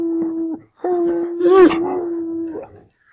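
A dog howls in long sustained tones with a rising, wavering pitch, breaking off briefly then resuming in a second drawn-out howl, close and fairly loud.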